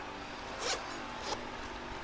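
Zipper on a Tethrd backpack pulled in two quick strokes, close and fairly quiet against a steady low room hum.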